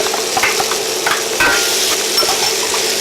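Red onions frying in a pan with a continuous close sizzle and several light clinks and taps of a utensil against the metal, cooked alongside lemongrass and garlic for sweet and spicy yellowtail fish.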